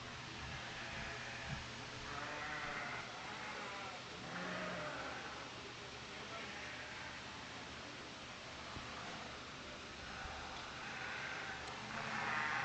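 Dorper sheep at a livestock show, with several faint bleats rising at intervals over a steady noisy hall background, no voices heard.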